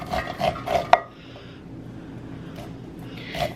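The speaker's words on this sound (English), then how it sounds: "we're gonna take the kernels off of the cob here, using a bundt pan to hold my corn in place" A sharp knife slices corn kernels off a cob that stands in a bundt pan, giving a few close clinks and scrapes at the start before fading to a faint, quiet background.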